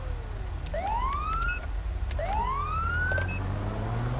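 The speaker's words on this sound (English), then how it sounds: "We're still using the Federal Signal Delta siren." A Federal Signal Delta police siren in GTA V wails in repeated rising sweeps, two long upward glides over a low engine rumble, with no voices.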